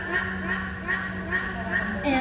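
A voice imitates a duck with a run of nasal quacks in quick, uneven bursts, fairly close and steady in loudness.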